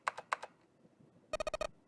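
Computer keyboard typing in the 999 video game: two short quiet clusters of key clicks, then a quick run of five or six crisp, evenly spaced keystrokes, close and isolated.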